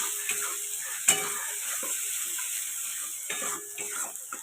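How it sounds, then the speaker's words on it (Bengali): Spices with chili powder fry in a kadai while being stirred, a soft steady sizzle with spoon scrapes and a sharp clink near the start, fairly close and otherwise without talk. "দিয়ে দিলাম ঝাল লঙ্কার গুঁড়ো, দিয়ে ভালো করে আমি মশলাটাকে কষাতে থাকবো।"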